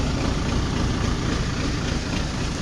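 An old backhoe loader tractor, about 48 years old, runs steadily with a loud, close, low rumbling diesel idle and no voices over it.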